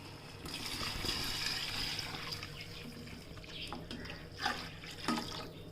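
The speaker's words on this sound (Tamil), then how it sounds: "நான் 2 லிட்டர் கிட்ட தண்ணி ஊற்றிருக்கேன்" About two liters of water pours steadily into a cooking pot, a continuous splashing rush with a couple of louder sloshes near the end.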